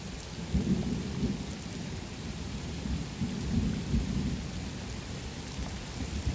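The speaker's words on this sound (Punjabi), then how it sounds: "ਮੀਂਹ ਬਹੁਤ ਜ਼ਿਆਦਾ ਆ ਗਿਆ" Heavy rain pours down on a basmati paddy field in Punjab in a dense, unbroken roar, with no voices.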